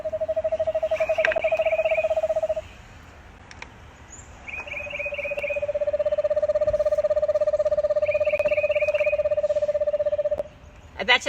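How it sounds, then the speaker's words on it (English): A screech owl gives a long, steady trilling whinny, then a second, longer trill after a short gap, with faint chirping songbirds in the background at Myrtle Beach State Park. "But we're going to do a screech owl."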